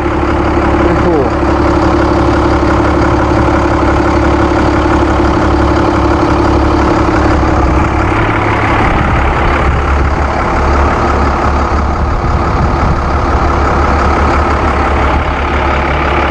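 A 2000 Chance AH-28 trolley bus's Cummins 5.9 liter turbo diesel, paired with an Allison automatic, idles with a steady low rumble and hum that holds throughout, with a voice speaking over it.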